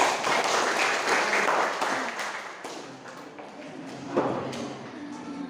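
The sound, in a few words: audience applause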